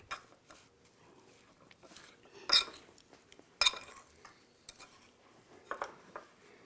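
Calamari stuffing mixed with a spoon in a pan with a little oil, with scattered light clinks and two sharper metallic knocks against the pan, close and otherwise quiet.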